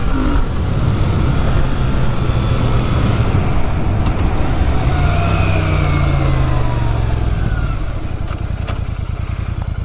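A Royal Enfield motorcycle, a Shotgun 650 or Hunter 350, accelerates hard through a 0-60 run, its engine note climbing through gears, loud and close before easing off near the end, with no talking.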